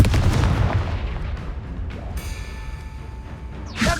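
A Confringo blasting spell fired in the video game Hogwarts Legacy, a heavy explosive boom followed by a rumbling burst and ringing tonal decay, ending with another sharp crack.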